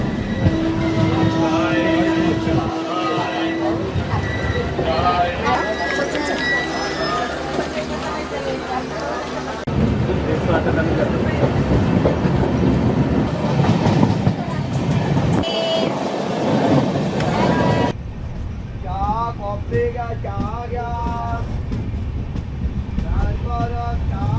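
Konkan railway train running along its coastal tracks, a steady loud rumble throughout with rhythmic rattling, a sharp shift near the end to a quieter interior with faint clacking.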